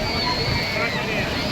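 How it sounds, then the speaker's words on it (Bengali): Sea waves at Puri beach slosh and wash in a continuous close rush of surf, with voices talking over the water. "ঢেউটা দেখো"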